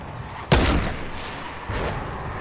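A single sharp grenade blast goes off in the Fortnite video game, a sudden boom at moderate distance followed by a decaying rumble and a fainter second swell.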